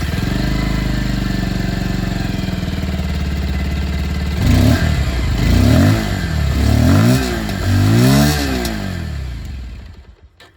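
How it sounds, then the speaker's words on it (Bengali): A motorcycle engine idles close by with a steady exhaust burble, then is revved in four quick throttle blips before cutting off, heard alone with no talk. "আর এন্ডে এবার আপনারা এই বাইকের যে আওয়াজ সেটাও শুনে নিন।"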